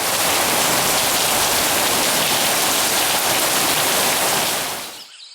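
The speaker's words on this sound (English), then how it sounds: "Waiting for the rain to stop. Wasn't supposed to rain that much, but no, it decided to pour." Heavy rain pours in a dense, steady hiss that stays loud throughout, then cuts off abruptly near the end.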